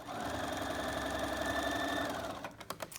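Steady, close whirring hum of a sewing machine running continuously as it stitches a side seam with a pocket, then backstitches, ending in a few quick irregular clicks and knocks.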